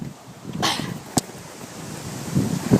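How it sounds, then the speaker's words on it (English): Gusty wind buffets the microphone in uneven bursts, with a sharp click partway through and rumbling noise between gusts. "it's really windy out here"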